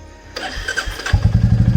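A Royal Enfield Meteor 350 motorcycle engine cranks and fires up outdoors, settling into a loud, steady thumping idle with a regular low pulse.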